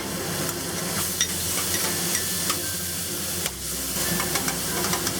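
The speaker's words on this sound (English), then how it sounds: "Stir fry this until it gets aromatic." Ginger, garlic and black beans stir-frying in hot oil in a freshly rinsed pan, a continuous sizzle with scattered spatula scrapes and light clicks, close and steady, one brief dip in intensity partway through.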